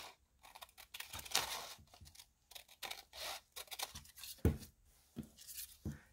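Scissors cutting out handmade paper labels for collage, a series of quiet, close snips and rustling paper scrapes in an irregular rhythm, with a sharper crunch near the middle, no voices.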